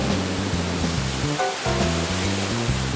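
A waterfall on a salmon river pours in a steady, dense roar of rushing water, loud and continuous, with a low tonal layer running underneath.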